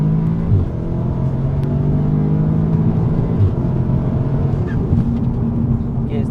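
A tuned 450 bhp Audi S3 8V accelerates hard in fourth gear, its engine drone rising steadily in pitch under a loud road rumble heard from inside the cabin.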